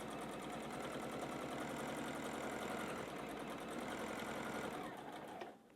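A sewing machine runs continuously while stitching quilt fabric with a needle-down function, a steady close mechanical whir that holds for about five seconds and then stops abruptly.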